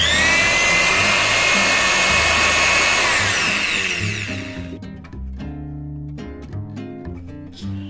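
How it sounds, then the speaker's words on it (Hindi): An electric drill bores holes for HO scale model railway signals, a steady loud motor whine with a rising pitch for about four seconds that then stops and gives way to other tonal sounds. "तो चलिए हम इसे ड्रिल शुरू करते हैं।"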